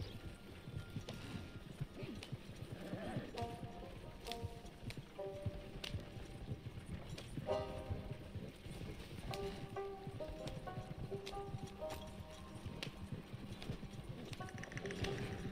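Horse hooves clip-clopping steadily as a wagon rolls along in the video game Red Dead Redemption 2, a soft, even rhythm mixed with rattling and light background music.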